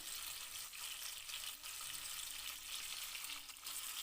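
Onions sautéing in a pan for an onion-tomato gostu, a soft, steady sizzle with faint stirring scrapes, fairly quiet and without any talk.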